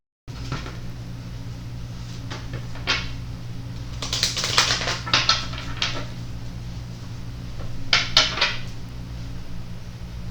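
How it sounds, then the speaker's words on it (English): Soft riffling and flicking of a tarot deck being shuffled, with a few sharper bursts of snapping cards amid quiet room hum, no talking. "shuffle a couple times and then get started"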